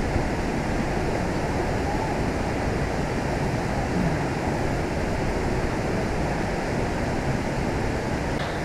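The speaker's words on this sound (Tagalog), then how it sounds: "Tapos maririnig mo yung mga agos ng tubig." Rushing water from Tanawan Falls in Dingalan, Aurora, a steady broadband roar that holds evenly and close throughout with no voices.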